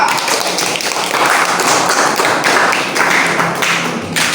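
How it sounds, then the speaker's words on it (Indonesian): Students in a classroom clap for a classmate, a dense, loud burst of many hands that runs evenly throughout and eases off near the end. "Tepuk tangan untuk teman kita"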